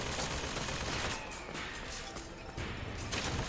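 Automatic turrets in Bioshock Infinite fire continuous rapid bursts of gunfire, loud and dense throughout with brief dips, mixed with game effects.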